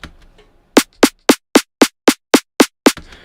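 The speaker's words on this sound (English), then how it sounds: "the snare drum sounds like this" Ten sharp snare drum hits from a drum and bass track, played alone in a quick, even run after a moment of near silence, each crack punchy and loud with a short tail.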